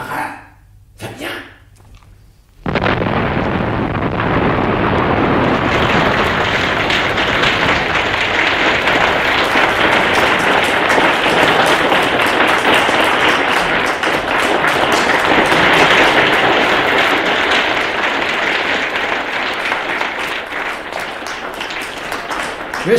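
Sustained, thick applause from a large audience at a French ceremony honouring a police divisional commissioner swells in abruptly after brief quiet, then keeps going steadily and loudly for about twenty seconds.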